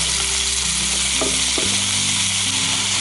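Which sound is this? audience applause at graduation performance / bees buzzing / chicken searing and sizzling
chicken searing and sizzling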